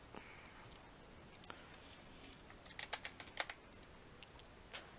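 Typing on a computer keyboard, a run of quick close clicks that grows denser midway and then trails off into a few scattered taps over a faint background hiss, with no talking.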